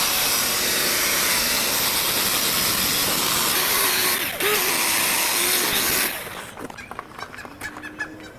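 A buffing pad polishes an ATW alloy wheel rim using detergent instead of polish, making a loud, continuous whirring rush for about six seconds before cutting off into quieter scattered clatter.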